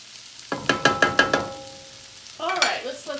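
Bean sprouts and shrimp fried rice in a pan, heard as a run of sharp scraping stirs followed by a faint steady hiss and a louder clattering burst at the end, with no one talking.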